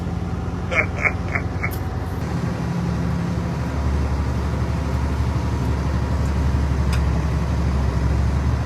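A crane's engine runs steadily with a deep low rumble, rising slightly as it is driven up through its eight gears, with brief faint voices early on.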